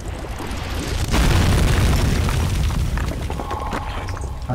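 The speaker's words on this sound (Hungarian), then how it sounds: "Hát nem gondoltam volna, hogy ott akkor át fog robbanni." A deep, loud explosion booms in the horror video game Amnesia: The Dark Descent, swelling into a sustained roaring rumble with crackling debris that slowly fades, and no talking.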